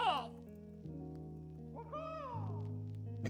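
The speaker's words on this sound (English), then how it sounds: "Squawk! That sound." A creature's squawk in the Wizard101 video game, set in the Lemuria world, rising into a drawn-out warbling, hooting call over sustained musical tones, moderately loud and alone.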